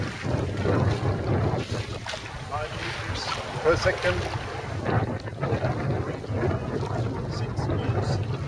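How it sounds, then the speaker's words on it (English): A very small sailboat moves through water at about 3 or 4 knots with rushing, splashing wash and wind noise at the microphone; a voice speaks briefly. "This very small sailing boat is doing quite good."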